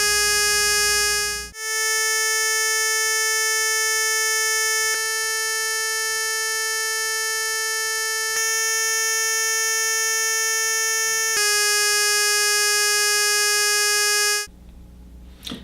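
Sustained pure tuning pitches, each held several seconds in sequence at slightly different frequencies, with the tone shifting at each changeover; clear, steady and alone with no talking.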